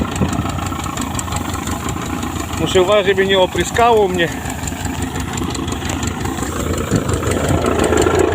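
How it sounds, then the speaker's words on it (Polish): A tractor engine idles and runs steadily while someone talks over it; a brief whining squeal rises midway, then the rumble continues, fairly close. "Ciągnik sam jedzie."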